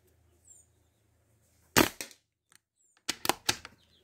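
Sharp, snappy shots from an air rifle firing lead pellets ring out in a quiet setting: a single crack, a pause, then three quick shots in a row.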